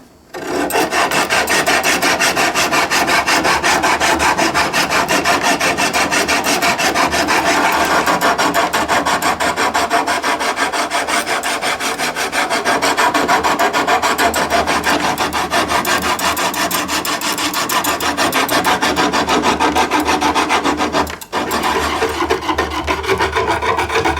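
A rasp files steadily into a wooden longbow limb, cutting a tillering nock with loud, continuous rhythmic strokes close by for over twenty seconds, pausing briefly near the end before resuming.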